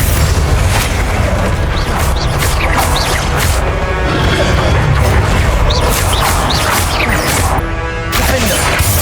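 Confringo blasting spell explosions in the video game Hogwarts Legacy, played on hard mode: repeated booming blasts and crashes over continuous loud combat noise, with no talk.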